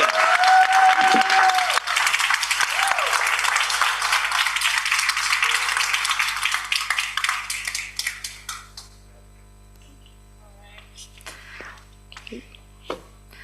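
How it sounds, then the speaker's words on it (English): A crowd at a youth food competition finals claps loudly for a prize-winning team. A voice is heard briefly at the start, then the applause thins out and fades into near silence with a few last scattered claps. "Let's have another round of applause to Ecoliving"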